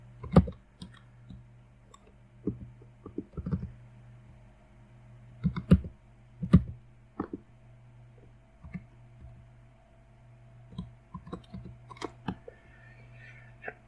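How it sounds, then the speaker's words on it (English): Someone types on a computer keyboard, with irregular bursts of sharp key clicks and pauses between them over a faint steady hum, recorded close and fairly quiet. "I will start off by showing a typing demo."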